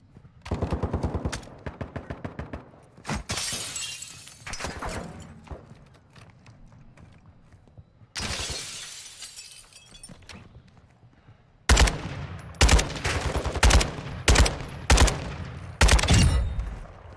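Automatic gunfire in Warzone 2 DMZ, repeated rapid bursts of loud close shots with pauses between, plus a few heavier single blasts and quieter stretches.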